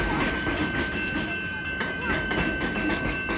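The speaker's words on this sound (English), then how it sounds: "Seeing the big trains, ding ding, bye bye trains." A train rumbles past nearby at the Glen Huntly level crossing with rhythmic clatter of wheels and a steady, high ringing tone like a crossing bell over the noise.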